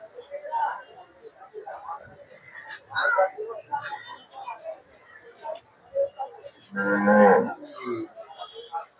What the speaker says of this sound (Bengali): এই পাশে অনেকগুলো গরু আছে